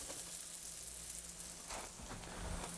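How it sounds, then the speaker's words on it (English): Burger buns grill in a pan, giving a soft, steady sizzle with faint clatter near the end. No voices. "we're going to grill the buns, too"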